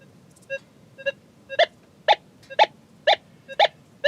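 A metal detector sounds a series of short, bright tonal beeps over a gold nugget, growing louder and steadier while pinpointing, about two per second, with no talking.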